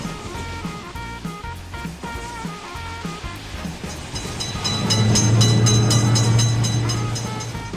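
A train passing in a railroad crossing video game: rhythmic wheel clatter rolls steadily, then a long sustained horn blast sounds loud and close before fading.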